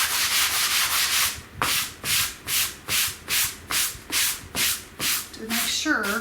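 A painted wooden sign is hand-sanded in about a dozen even back-and-forth strokes, each a close, loud rasping scrub with short pauses between, ending in a faint clatter.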